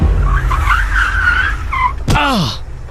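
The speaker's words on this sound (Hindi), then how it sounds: "तभी गाड़ी में जोर का ब्रेक लगा" A cab brakes hard, a loud rising engine drone with a voice over it, then a sharp jolt and a short, piercing tire squeal that bends downward and fades.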